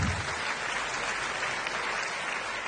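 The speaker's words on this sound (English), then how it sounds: "Big round of applause." Applause from the audience at a business event in India, a steady, even wash of clapping held throughout at moderate level with no talk over it.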